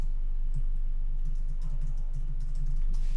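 Soft, rapid keystrokes on a computer keyboard patter over a steady low hum, with irregular clusters of clicks as a short message is typed.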